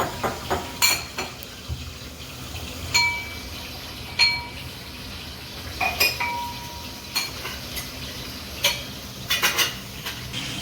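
A metal spoon scrapes and clinks against a pot of spiced drumstick curry in irregular strokes, with sharp ringing taps scattered throughout at close range.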